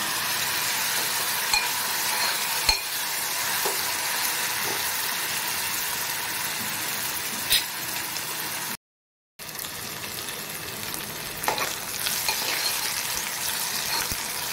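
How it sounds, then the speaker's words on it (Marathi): Onion and tomato frying over a high gas flame as the base for a Maharashtrian prawn masala, a steady close sizzle with occasional stirring clicks and no talk. "कांद्यासारखा त्याच्यामध्ये गळेपर्यंत भाजून घ्यायचा आहे। गॅसने अगदी फास्टच ठेवलेला आहे त्यासाठी।"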